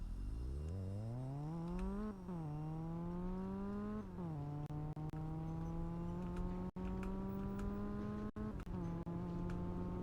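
A car engine in the video game Fix It Up revs up in a rising whine, dips slightly and then holds a steady droning pitch, alone and without talk.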